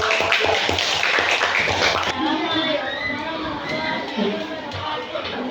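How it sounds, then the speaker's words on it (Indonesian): An audience at an Indonesian school class session claps steadily, loud and close, with many hands overlapping into a dense patter that softens partway through, mixed with children's chatter. "kasih tepuk tangan untuk"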